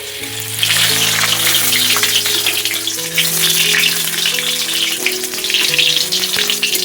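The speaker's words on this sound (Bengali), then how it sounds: "পাঁপড়টা ভেজে নেব।" Papad fries in hot oil in a village home kitchen, a loud, continuous bubbling sizzle that holds steady throughout with no talk.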